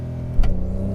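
A 2020 Porsche 911 in Sport Plus mode makes a launch-control start, with its engine droning at a steady high idle before a sudden surge and rising rev as it pulls away, loud and heard from inside the car.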